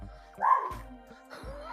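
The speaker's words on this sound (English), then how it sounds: "a dog barking in the background, apologies" A dog barks and yips a few times in the background during a solar eclipse livestream, each bark short and moderately loud against a steady low hum.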